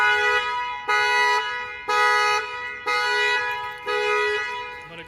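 A 2020 Nissan Altima's alarm sounds its horn in steady repeated honks, about one per second, loud and close, with five blasts in a row.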